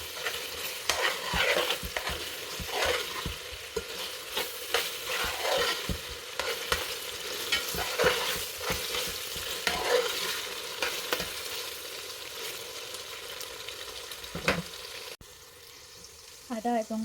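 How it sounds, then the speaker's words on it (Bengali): Ginger and garlic paste frying for a mutton curry, a steady sizzle with repeated scraping stirs throughout, close and continuous, quieter near the end. "এখানে আদা এবং রসুন বাটাটাকে ভালো করে ভেজে নিতে হবে, যাতে করে কাঁচা গন্ধটা চলে যায়"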